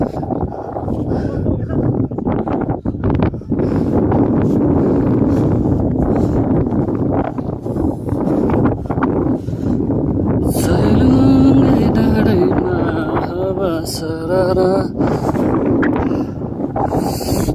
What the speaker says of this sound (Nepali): सही मिठो हावा चले खायो आज